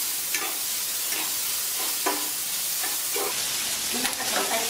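Beef tripe stir-fries in a hot pan as oyster sauce is added, giving a constant loud sizzle. A spatula scrapes and tosses the food about once a second.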